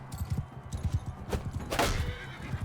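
Horse hooves pounding at a gallop in Mount & Blade II: Bannerlord, a fast steady clip-clop close up with a brief whinny-like burst, no talk over it.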